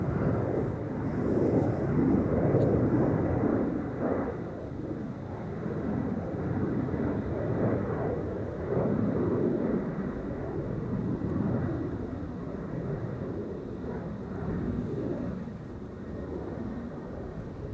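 KLM Embraer 175 jet departing Amsterdam Schiphol from runway 36L Polderbaan, a distant low roar swelling and fading gradually, heard from afar with steady background rumble.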